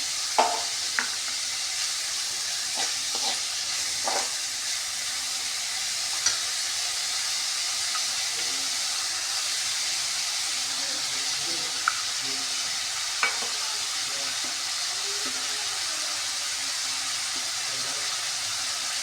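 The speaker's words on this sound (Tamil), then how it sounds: "இப்போ வெங்காயம் வதங்கிறதுக்காக கொஞ்சம் சால்ட் யூஸ் பண்ணிக்கிறேன்." Salted onions sautéing in a pan for tomato rice, a steady close sizzle that carries on throughout, broken by a few light taps and stirs of a spoon.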